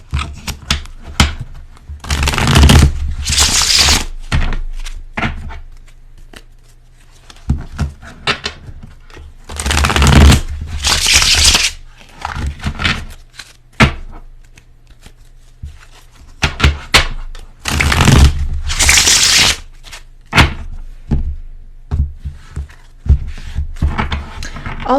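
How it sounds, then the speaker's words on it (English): Golden foil tarot cards being shuffled in several separate bursts of crisp riffling and slapping, each a second or two long with quieter pauses between, close to the microphone and without talk. "I'm going to pull the golden foil tarot actually"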